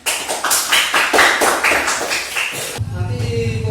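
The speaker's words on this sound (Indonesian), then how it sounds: "beri tepuk tangan untuk kelompok 3" A classroom group breaks into a short burst of brisk applause for group 3, a few seconds of dense clapping that cuts off, then a low hum remains.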